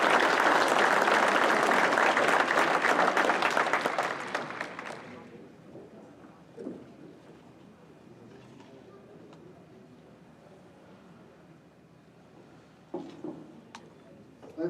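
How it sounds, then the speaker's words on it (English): Warm congregational applause at a celebration of life service for a priest, full clapping for about five seconds that cuts off into quiet room sound with a few faint thuds and murmurs. "nice applause for Leonard and his son Hassani"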